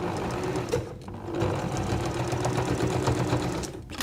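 A sewing machine runs close by, stitching quilt binding in a fast, steady mechanical whir of needle strokes, with brief pauses and a short slowdown.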